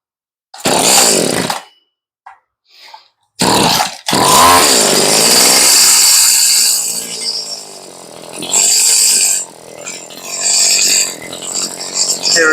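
A Stihl string trimmer engine, newly fitted with a rebuilt carburetor, sputters through two short starts and then runs loud and close, revving and dropping unevenly.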